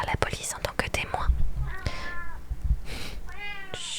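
A pet cat meows a couple of times with harmonic, rising cries at about two and three and a half seconds, close by, amid soft whispering and light tapping sounds in a quiet room.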